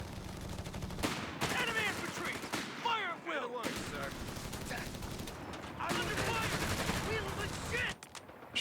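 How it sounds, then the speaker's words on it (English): Machine gun fire in the real-time strategy game Company of Heroes 3, sustained rattling bursts and scattered gunfire in a busy battle mix, running under talking. "Machine guns coming down here."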